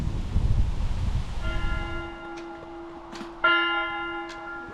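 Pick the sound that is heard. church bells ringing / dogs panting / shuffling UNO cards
church bells ringing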